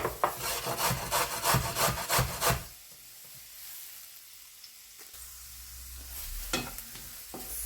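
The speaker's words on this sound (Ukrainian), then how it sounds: "Я буду натирати морковочку. Натираю на такій" Carrot is grated on a hand grater in brisk, rhythmic rasping strokes, then gives way to a quiet, low sizzle of onion frying in a pan, with a few soft clinks near the end.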